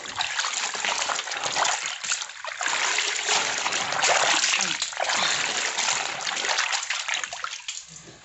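Clothes washed by hand in a tub of water make continuous splashing and sloshing, with bursts of wet slapping and dribbling close by, fairly loud throughout.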